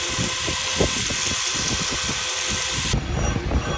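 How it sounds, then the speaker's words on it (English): A 2x72 belt grinder grinds the bevels of a handmade knife blade, a loud, continuous whirring roar with a rough, pulsing texture as the steel presses against the belt, with no talk. "it's time to bring the bevels to an edge. I'm just going to do that real quick on the 2x72 grinder here"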